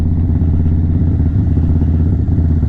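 Steady, loud engine rumble from an Indian Chief motorcycle running close by, a continuous low throbbing idle with even pulses and no voices.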